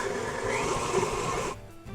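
A blender whirs steadily while mixing peanut butter into a nut butter, a continuous close motor drone that cuts off abruptly near the end.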